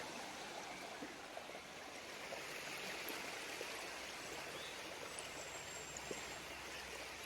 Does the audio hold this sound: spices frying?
no